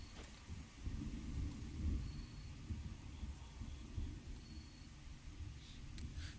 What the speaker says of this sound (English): Sounds of thunder in the air, but I'm not sure what that is.